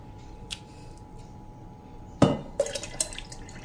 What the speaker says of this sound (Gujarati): તો આ છાશને પણ આપણે જે આ જગમાં છાશ કાઢી છે ને એમાં જ નાખી દેશું